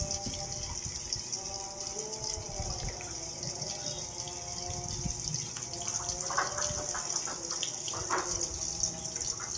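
Water poured into a pan of sautéed pork and onion for pancit bato, a quiet steady gushing pour with light sizzling and clinking, close but low in level.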